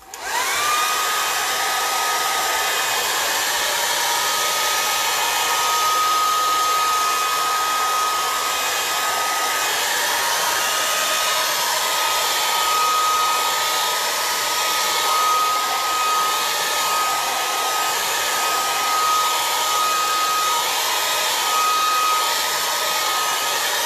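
A hair dryer blows on acrylic paint on a canvas while hands are being painted, a loud, steady whir that runs unbroken from start to finish with no voices.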